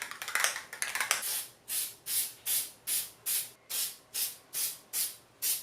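Spray paint hisses out over a mask in about ten short even bursts after a few quick sputtering ones, close and fairly quiet.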